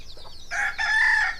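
Country hens with a mother hen keeping her young chicks close on a farm, giving a short nearby clucking call that rises into a loud crow-like squawk, heard alone without talk.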